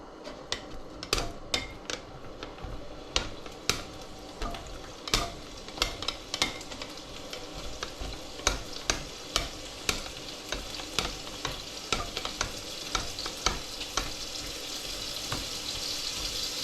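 Hungarian fried dumplings being stirred in a frying pan, a continuous sizzle broken by repeated sharp scraping and clacking strokes of the utensil at a fairly even rhythm, close up and with no talking.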